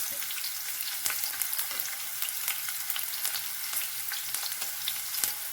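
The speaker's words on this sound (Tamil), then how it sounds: "கடாயில் எண்ணெய் கொஞ்சம் ஊற்றிக்கலாம். இதில் வெங்காயம் சேர்த்துக்கலாம்." Sliced big onions sizzle steadily in hot oil in a kadai, a dense continuous crackle with occasional spatters and stirring scrapes, close and alone.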